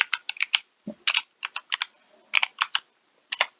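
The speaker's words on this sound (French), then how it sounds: "Je sais pas si vous aimez bien les bruits de clavier" Computer keyboard typing in quick bursts of clicky keystrokes with short pauses between, close and fairly quiet, with no talking.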